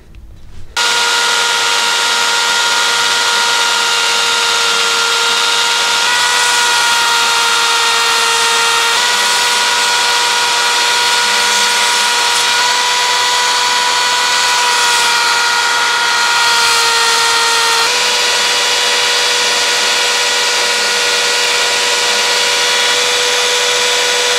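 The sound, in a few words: power sander sanding a knife forged from an old shovel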